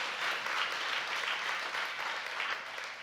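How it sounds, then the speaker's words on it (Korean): A congregation at a Korean church anniversary service gives a warm round of applause, a steady, even wash of many hands clapping that stays level for a few seconds. "여러분 어머님 위해서 박수 한번 쳐주세요"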